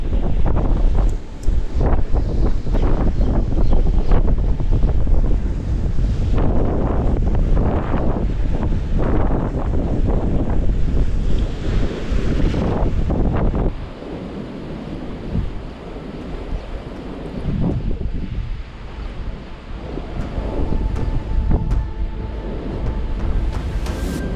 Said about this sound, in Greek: πάρα πολύ αέρας.